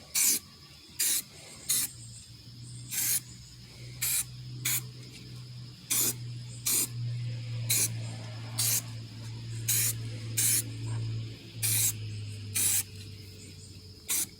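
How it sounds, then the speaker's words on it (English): Spray paint hisses onto a 1965 Mustang wheel in a garage, about fifteen short, evenly spaced bursts of sharp close hissing with brief pauses between them over a low steady hum. "my youngest son is going to show us how to put some spray paint on here."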